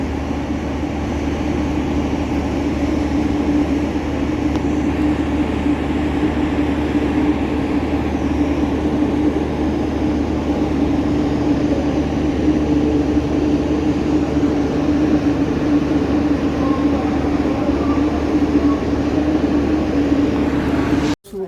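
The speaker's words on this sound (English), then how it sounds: "here comes our locomotive" A steady, loud diesel rumble with a constant low drone runs throughout as a passenger train locomotive approaches slowly at a Kazakhstan station, cutting off abruptly at the end.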